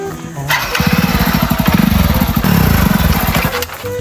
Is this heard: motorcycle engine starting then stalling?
yes